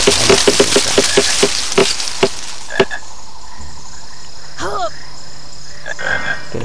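A cartoonish chocolate frog croaks in the Harry Potter and the Philosopher's Stone PC game, a quick series of loud rhythmic croaks that slows and thins out, followed by a warbling call and softer game effects over low ambience.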